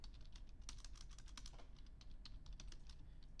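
Quiet, rapid keystrokes clatter on a computer keyboard in an even, continuous run of soft clicks, with no speech over them.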